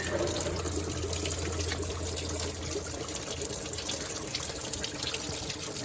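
Engine coolant pouring and splashing steadily out of a GMC Canyon engine during water pump removal, a continuous close liquid gush with faint shop noise behind it.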